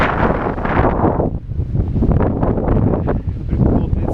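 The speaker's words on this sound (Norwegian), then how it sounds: "Det blåser som bare fyr på der." Strong wind buffets the microphone during a paddling crossing of Ungava near Lac Minto, a loud, continuous roaring rumble with gusty surges and a brief lull partway through.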